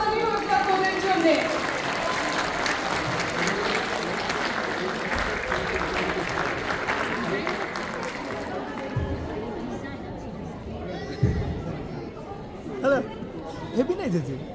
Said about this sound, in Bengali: আরেকবার জোরে হাততালি হোক তোদের জন্য।